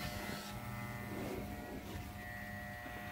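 A cheap Walmart hair clipper buzzes steadily for a few seconds while cutting a #2 fade, a continuous electric hum with slight shifts as the blades move over the head.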